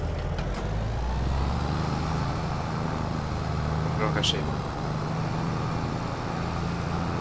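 A tractor engine in Farming Simulator 22 drones at a steady low pitch throughout, with a brief lighter sound near the middle and people talking over it.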